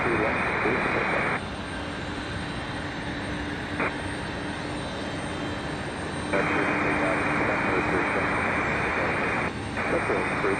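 FedEx jet airliner landing at Raleigh Durham airport, a loud steady engine roar lasting throughout, swelling slightly partway through, heard from a distance outdoors.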